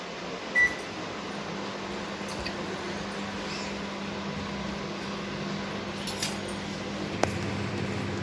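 An oven on grill mode cooking a chicken pizza hums steadily and low, with a soft click or clunk early and a faint tap near the end, no voices.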